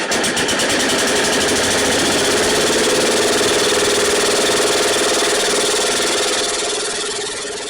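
A Ford LGT 125 / Jacobsen GT 12 garden tractor engine, started from cold, runs loudly and close with a steady, rapid chugging drone that eases slightly in level near the end.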